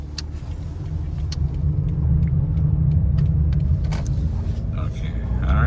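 A 2012 Scion iQ drives steadily with a low, constant engine and road rumble throughout, building slightly toward the end, with a few faint clicks over the top.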